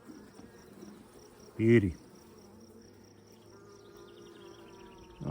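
Honeybees hum steadily from an opened hive with a small brood nest, a soft continuous drone running throughout, broken by a brief loud knock partway through and a short spoken word.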